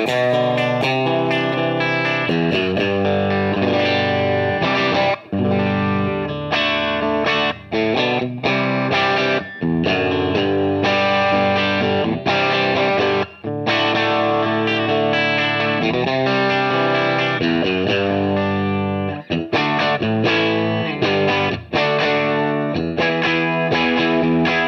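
An electric guitar runs through a tube amp turned about three-quarters up, its power section breaking up into thick, continuous distortion as chords and riffs ring loudly for the whole stretch, with only brief gaps between phrases.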